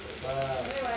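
Thalipeeth made with chigal greens sizzles and fries in oil on a hot pan, a steady close crackle with a faint low hum underneath.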